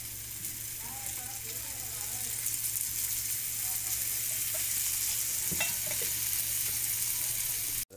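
Surmai (kingfish) pieces frying in oil give a steady, loud sizzle throughout, with faint clinks and a brief scrape near the end, and no talking.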